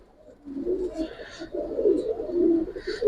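Pigeons coo nearby in soft, low, rolling calls that repeat in several overlapping phrases, with faint higher chirps above them.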